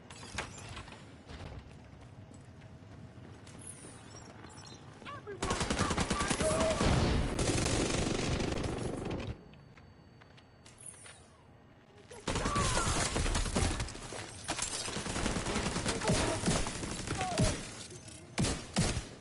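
Gunfire in the Division 2 video game: long sustained bursts of automatic fire in two loud stretches, separated by quieter spells of mechanical clicks and background game noise.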